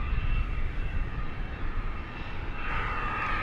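An airliner rolls on a runway at DFW, its engines giving a steady low roar, and a rising groaning whine joins near the end, the so-called Wookiee noise.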